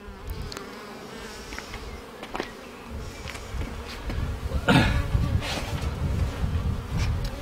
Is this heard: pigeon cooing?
no